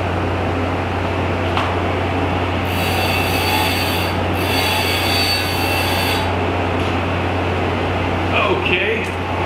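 A tungsten welding electrode is sharpened on a grinder in a metal workshop, with a steady motor hum throughout and a high, thin whine of contact lasting a few seconds in the middle.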